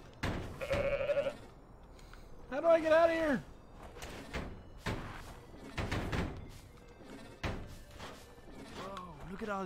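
A goat bleats in a video game, with several wavering bleats standing out among thumps and door-like slams, while a person talks over parts of the game sound.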